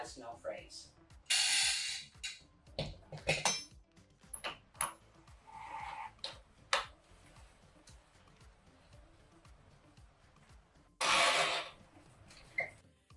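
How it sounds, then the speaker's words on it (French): Q'Straint automatic ratchet securement belt retractor clicking and whirring in several short bursts, with a couple of longer rattling pulls, fairly close and moderately loud between quieter gaps. "Il s'agit du système à cliquet automatique."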